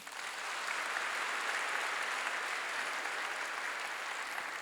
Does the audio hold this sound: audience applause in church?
yes